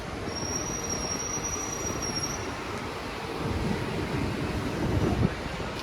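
A tram at Haymarket gives a thin, high-pitched wheel squeal over a steady rolling rumble of street and rail noise, strongest early on and fading as the rumble swells.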